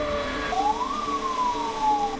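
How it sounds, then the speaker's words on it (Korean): A fire truck inside a nuclear power plant sounds its siren during a fire at the generator, a wailing tone rising and falling over steady engine and background noise. "발전소 내 소방차가 출동합니다"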